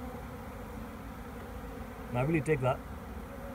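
Steady, close insect buzzing from a cluster of bees at a backyard shed hive runs throughout, with someone briefly talking over it near the end.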